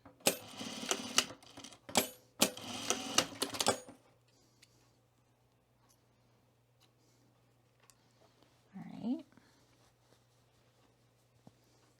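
A sewing machine stitching a cat-ear hood runs in several rapid rattling bursts of needle strokes, then stops, leaving near silence with a faint hum and one soft thump.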